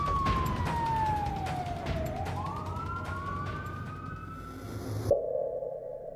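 An ambulance siren wails steadily, its pitch falling then rising in long sweeps, fairly near over traffic rumble before cutting off abruptly.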